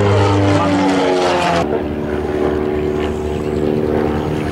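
A Midget Mustang light aircraft drones loudly at close range, its engine and propeller giving a steady, buzzing roar that shifts pitch slightly partway through as it passes at an air show.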